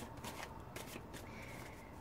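Tarot cards shuffled by hand in a quiet room, a steady papery riffling and sliding that continues without pause for about two seconds, close and fairly soft.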